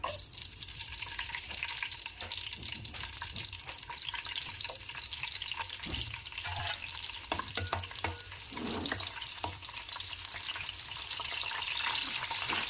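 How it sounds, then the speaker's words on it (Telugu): Green chillies crackle and sizzle in hot oil in a pan for a Telugu egg and ridge gourd curry, a steady hiss with scattered pops and spatters, fairly close and alone. "పచ్చిమిర్చి ఫ్రై కావాలి కొంచెం పచ్చిమిర్చి ఫ్రై అయ్యాయి"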